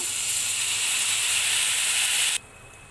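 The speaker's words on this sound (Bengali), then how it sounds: "মশলাগুলিকে ভেজে নেওয়ার জন্য সামান্য জল দিয়ে দেব" Spices, including Maggi masala, chilli powder and turmeric, sizzle loudly in a pan after a little water is added, a broad steady hiss that cuts off abruptly near the end.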